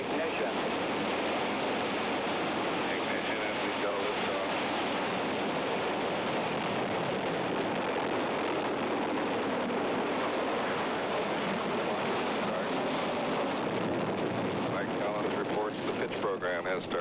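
Gemini 10 rocket ignition and launch, a dense continuous roar filling the whole stretch at steady loudness, distant and broadband like rushing wind.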